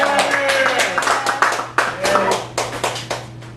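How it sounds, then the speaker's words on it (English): An open mic audience at the Cafe Gallery in Chicago claps steadily, then the applause thins into scattered, fading claps, with voices faintly underneath. "So everyone, give a round of applause for our host"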